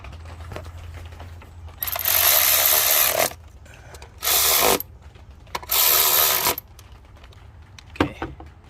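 A power tool runs up the 12 mm bolts on a Nissan VQ35DE V6 engine. It gives three sustained whirring bursts with ratcheting clicks and short metallic taps in the quieter gaps between them.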